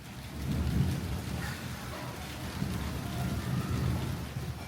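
Steady rain falls around a house surrounded by tall buildings, with deep rolling thunder swelling and fading under the constant hiss of the downpour.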